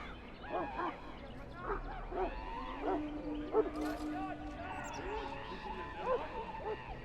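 Mabari hound in Dragon Age Origins, a few barks and yips mixed with growl-like calls, heard faintly beneath a spoken conversation.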